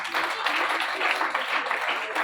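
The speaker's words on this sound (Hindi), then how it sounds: "जोरदार तालियां।" Audience applause fills a college auditorium during a youth festival prize ceremony, a steady dense wash of clapping throughout the short stretch.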